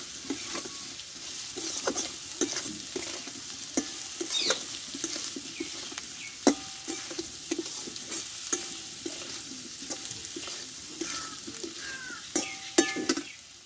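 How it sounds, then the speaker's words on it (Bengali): Ground coriander, turmeric and salt being stirred together in a hot pan, a soft sizzle broken by frequent scraping and tapping of a spatula against the pan. "এবার সবগুলো একসঙ্গে ভালোভাবে আমি একটু নাড়াচাড়া করে নেবো"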